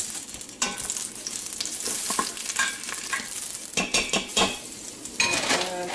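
Hash browns fry in bacon grease inside an Instant Pot, giving a constant crackling sizzle broken by sharp scrapes and clanks of a utensil stirring against the metal pot, close and without talk.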